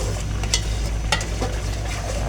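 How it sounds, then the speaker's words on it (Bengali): Masoor and mung lentil dal tempered in a hot pan with onion and cumin, giving a steady close sizzle with a few brief stirring scrapes and no voices. "তারপর বাগার দিব মসুর ডাল, মসুর আর মুগ মিশিয়ে দিয়েছি"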